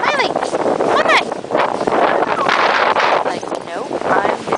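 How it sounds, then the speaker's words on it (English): Strong wind buffets the microphone on Topsail Beach in a steady roar with gusty swells, while people talk faintly underneath. "It's a nice windy day here."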